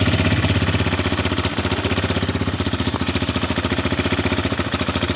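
A 2019 Xmotos 250cc dirt bike engine runs close by, its rapid, pulsing single-cylinder beat loud and steady throughout, with no talking.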